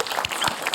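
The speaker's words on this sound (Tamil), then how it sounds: "கைத்தட்டல் குத்துருங்க" A short burst of clapping from a studio audience at a children's fun show, brief and steady with no voices.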